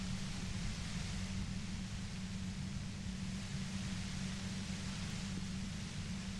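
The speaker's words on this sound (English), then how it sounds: "The explosion of static you're hearing, it's the ULAN frequency, blasted from that pale emitter that Angus mentioned." Static blast of the ULAN frequency from a pale emitter in the video game Disco Elysium, a loud continuous wash of noise over a low droning hum, unchanging throughout, no speech.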